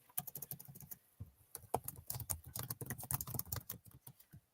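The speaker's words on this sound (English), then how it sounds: "I'm typing out the question." Rapid, uneven clatter of typing on a computer keyboard, close and fairly quiet, in irregular bursts of keystrokes with brief pauses, no talking.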